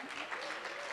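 An audience bursts into applause for the Tamil Nadu finance minister at the Ignition 2023 event, a dense, steady wash of many hands clapping that holds at even loudness throughout.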